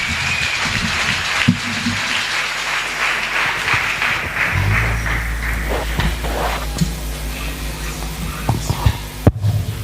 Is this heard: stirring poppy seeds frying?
no